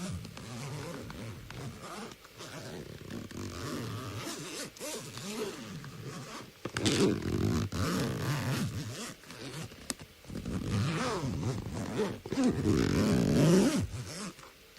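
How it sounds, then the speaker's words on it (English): A zipper is pulled closed in a series of close, loud rasping strokes, with short pauses between bursts and the longest, strongest pulls near the end. "Go ahead and zip her on up."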